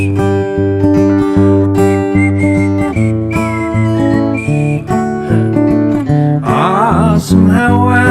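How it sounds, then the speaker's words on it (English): Someone whistles a melody during a live music performance over a full band, the thin whistled tune weaving above strummed chords and bass. "there's a little whistling part."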